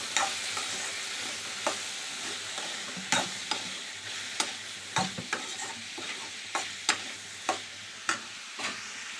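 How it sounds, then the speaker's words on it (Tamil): Grated coconut and mint leaves sautéing in a pan, a soft continuous sizzle broken by a series of crisp spatula scrapes and taps at irregular intervals, close and fairly quiet, with no voices. "கொஞ்சமாக வாசனைக்கு புதினா தழை நல்லா வணக்கிக்கலாம்."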